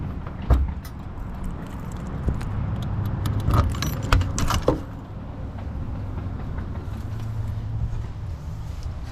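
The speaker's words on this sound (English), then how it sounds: "See if we can open up this trunk." The trunk of a 1967 Ford Mustang being opened: keys jangle loudly up close in a burst of metallic clinks, then a steady low rumble carries on underneath.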